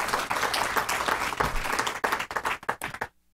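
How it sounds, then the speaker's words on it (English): Applause from a conference audience at a Kiwanis early childhood event, a dense burst of many hands that thins into scattered individual claps and then stops abruptly into silence. "I think that's worth a round of applause."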